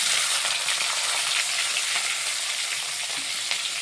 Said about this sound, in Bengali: বেগুনটা ভালোভাবে ভেজে নিচ্ছি